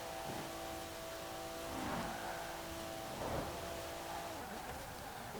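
A 2017 Alfa Romeo Giulia Quadrifoglio accelerates hard along a motorway in Forza Horizon 4, a steady high-speed engine drone with gear-change surges at around two and three seconds.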